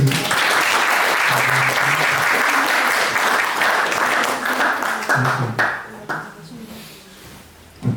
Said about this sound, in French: Vous pouvez les applaudir pour ça.